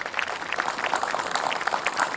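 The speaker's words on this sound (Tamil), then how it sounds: "கைத்தட்டல் கொடுங்க குழந்தைக்கு." Studio audience on a children's TV show clapping for a child, a brief, dense burst of applause at moderate level.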